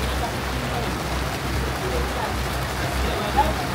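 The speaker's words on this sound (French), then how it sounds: "Genre d'un coup il a commencé à pleuvoir là." Steady rain begins to fall outdoors at night on a street after a restaurant outing, a continuous broadband hiss with low rumble, close and moderately loud throughout, with no voices.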